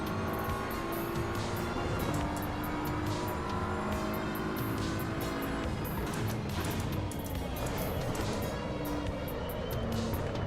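A race car in the Assetto Corsa EVO racing game drives with a steady, loud engine drone that rises and falls through gear changes, continuous throughout with no talking.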